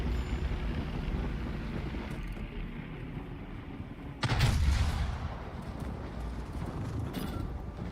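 Naval guns firing from a warship in World of Warships, a single heavy boom bursting out around the midpoint over a steady low sea-and-engine rumble.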